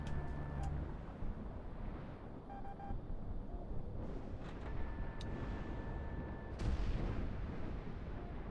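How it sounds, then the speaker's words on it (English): Missile strikes and gunfire in a video game make a dense, continuous roar of blasts and shots that stays loud throughout, with sharper impacts standing out near the end. "There's a direct hit with a missile. I'm getting shots on him with the gun"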